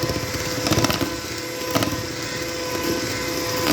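A stand mixer creams butter and sugar for a cream cheese pound cake, giving a steady motor whir with faint scraping and knocking from the beater against the bowl, moderately loud and continuous throughout.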